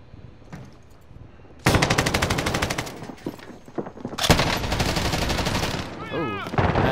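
Gunfire rattles in a multiplayer shooter video game. Loud, rapid bursts of automatic fire come in two long sustained stretches, with quieter shots before them and brief excited voices between.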